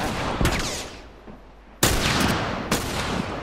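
Gunfire in the video game The Last of Us Remastered: three sharp, loud shots at uneven intervals, each with a short echoing tail, with no talk over them.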